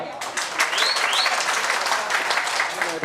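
Audience applause at a 73rd birthday celebration with singing, a dense steady clapping from a crowd that fills the whole span at even loudness, with a few faint whistles mixed in.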